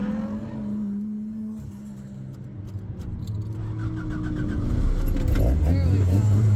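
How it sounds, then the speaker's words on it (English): Keys jangle and a Toyota AE86's engine cranks and catches, building into a louder idle and rev near the end, with a voice faintly in the background. "I nervously try to start the car"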